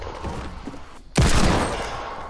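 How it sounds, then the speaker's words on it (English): Revolver gunfire in a video game, one sharp, loud shot that bursts in suddenly after quieter game sound and trails off with a lingering tail. "knocked him with my revolver"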